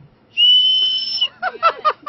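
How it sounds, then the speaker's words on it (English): A toy wiener whistle from the Wienermobile blown once in a loud, steady shrill tone lasting nearly a second, followed by a voice speaking close by. "I blew the wiener whistle."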